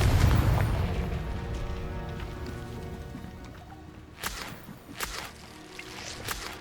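Bombarda and Confringo spells cast in Hogwarts Legacy: a heavy booming blast at the start fades into a rumbling tail, followed by a few sharp whooshing cracks of spell fire.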